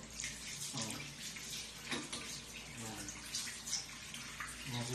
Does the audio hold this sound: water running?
yes